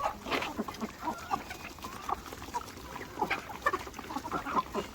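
Chickens feed on grain in a yard, with quick scattered pecking taps and soft clucks and fowl calls at moderate distance, continuing in an irregular busy patter throughout.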